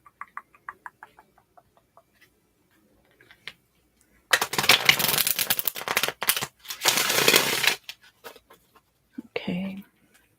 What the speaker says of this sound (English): wait there patiently while I shuffle the cards